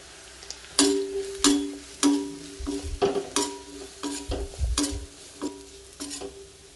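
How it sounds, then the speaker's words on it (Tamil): Amla gooseberries and masala powder in a pan over a low flame, stirred with a spoon: rhythmic scraping strokes roughly every half second with a soft, faint sizzle, close up, no voices. "இந்த பொடியை போட்டாக்கல லோ ஃப்ளேமில் வச்சு நல்லா சுருள்ற வரைக்கும் அப்படியே விட்டுருங்க."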